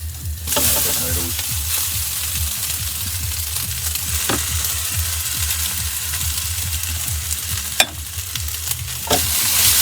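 Cooked noodles are stirred and fried in a pan, giving a steady loud sizzle broken by scraping stirs and a couple of sharp clacks of utensil on metal, with no one talking.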